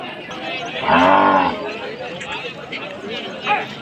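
A cow gives a loud, drawn-out moo nearby at a bull market in Adoni, with people chattering in the background and another faint moo toward the end.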